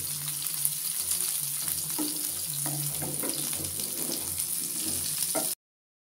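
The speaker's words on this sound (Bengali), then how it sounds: "মাছগুলো আমি কড়কড়া করে ভেজে নিয়েছি।" Katla fish pieces frying crisp in a pan, a steady close sizzle with intermittent clinks and stirring clatter throughout, no voices.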